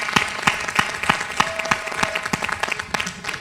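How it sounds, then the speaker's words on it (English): An audience at a Black women's public policy forum gives a round of applause, sparse, distinct claps with a few louder rhythmic hand claps standing out over a modest crowd. "Can we do a round of applause for all the sisters who just shared with us?"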